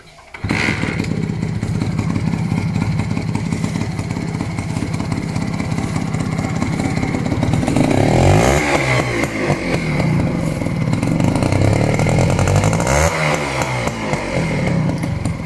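A Honda H100S motorcycle engine, freshly fitted with new piston rings and cylinder sleeve, idles steadily and loud up close, a dense continuous rumble that swells slightly around the middle and again near the end before settling.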